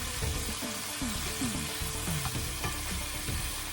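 Chicken and chorizo sauté in a pan with a loud, continuous sizzle and occasional stirring clatter, heard up close.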